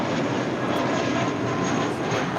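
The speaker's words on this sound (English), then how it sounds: "That is JetBlue Airways 2735 taking off to San Francisco on an A320." A JetBlue Airbus A320 taking off from LAX, heard as a loud, continuous broadband engine roar that holds steady throughout with no voices.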